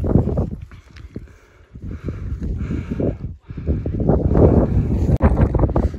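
Strong gusts of wind on a mountain summit in the Alps batter the microphone in uneven, rumbling bursts, with brief lulls between them.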